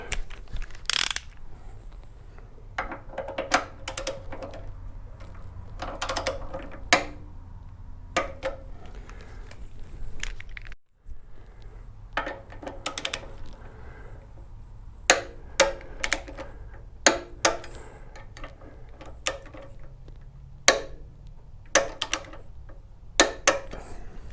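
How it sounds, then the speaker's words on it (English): Torque wrench ratcheting bolts on engine and saddlebag protection bars of a BMW K1600 motorcycle, sharp clicking bursts repeated in short runs with pauses between, close and clear in a quiet garage. "Now it's time for a torque wrench set to 18 foot-pounds."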